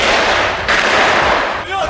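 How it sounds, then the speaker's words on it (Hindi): Bursts of gunfire from Israeli soldiers during an operation at Al Shifa hospital, loud and close, with rapid cracking shots in quick succession. "अल शिफा अस्पताल में चल रहे इजरायल के ऑपरेशन के वीडियो में वो हमास के लड़ाकों पर फायरिंग करते नजर भी आए"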